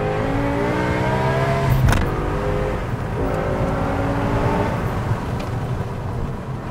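A BMW M5 with its V10 engine revs loud and close, the steady harmonic drone swelling briefly in pitch before settling back, with no voices over it.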